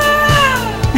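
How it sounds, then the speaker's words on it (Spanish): Kittens meowing in a short burst of high, tonal cries with falling pitch, close and fairly loud, a couple of brief calls overlapping at the end. "Escucharon las voces de los gatitos."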